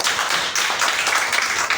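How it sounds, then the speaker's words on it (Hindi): Brief, dense clapping from an audience at a product training session, loud and continuous for under two seconds. "इसके लिए जोरदार तालियां तो एक बार बनती है"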